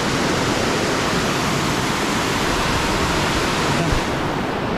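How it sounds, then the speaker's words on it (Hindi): Loud, constant roar of rushing water, a dense broadband wash that stays steady throughout with no pauses. "इतना पानी पूरा आवाज़ दे रही है"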